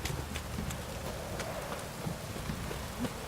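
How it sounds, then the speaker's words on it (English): Steady heavy rain downpour in The Witcher 3, a dense continuous hiss of drops with faint patters and low rumble throughout, no voices. "This downpour's a bastard"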